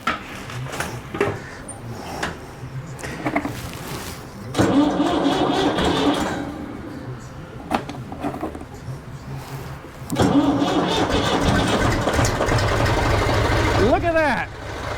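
An old tractor engine is cranked in repeated bursts with pauses between, before catching and running steadily at the end, with people talking nearby.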